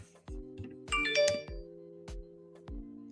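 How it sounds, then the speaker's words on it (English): A phone chimes with a notification for a PayPal donation, a bright electronic ding-dong ringtone that repeats in several short bursts over a low steady hum, with no talking. "so I don't know if you heard that ringing that just went off on my phone"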